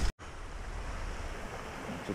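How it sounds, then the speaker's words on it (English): Steady wash of creek water running over a set of rocks on a trail at Holiday Lake State Park, a continuous close rush after a brief dropout at the start, no voices. "Nice little set of rock feature that the water's running over"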